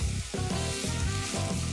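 Mushrooms, chopped carrots and celery sizzling in a hot pan, a dense, loud, continuous crackle with soft rhythmic stirring bumps underneath, no voices.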